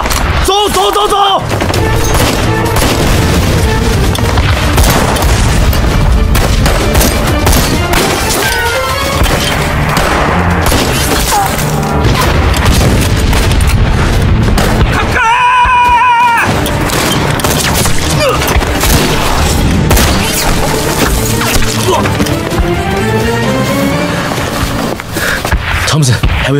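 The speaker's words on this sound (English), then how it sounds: "have you heard the gunfire?" Dense, loud gunfire from a war film battle in a jungle, with sustained bursts and blasts filling the scene nearly continuously, alongside explosive booms and crashes.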